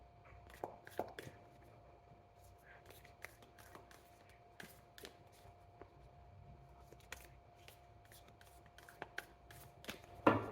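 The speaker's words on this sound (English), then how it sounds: "Let's get 2 cards each from this deck. 3 shuffles." Quiet crisp riffles and flicks of playing cards being shuffled, several short bursts spread out, close by, with a faint steady hum beneath.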